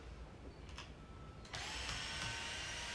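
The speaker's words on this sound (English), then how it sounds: "When you take these four screws out," Screws being backed out of a skateboard truck: after a brief quiet stretch, a close, steady mechanical whir starts and holds without a break to the end.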